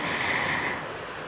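A story sound effect of waves surging on calm water turning rough gives a brief, continuous rushing wash of surf, full and steady, fading slightly toward the end.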